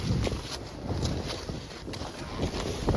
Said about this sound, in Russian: Ох, какой ветер дует.